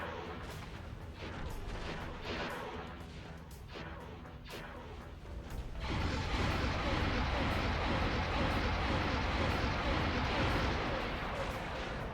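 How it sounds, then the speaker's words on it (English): A starship in the Star Wars Interworlds game takes a hit: a loud, sustained crashing boom that erupts midway and rolls on as a dense, explosive rumble after quieter, choppier game noise. "I love the sound effect of getting hit."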